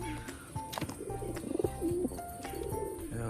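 Young racing pigeons in a cage in Rajshahi coo in short throaty bursts that swell in the middle, with scattered clicks and shuffling nearby.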